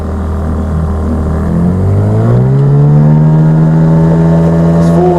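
An outboard motor on a hydrofoil boat runs up to full throttle, a loud close engine drone that climbs steadily in pitch and then holds a high, sustained whine.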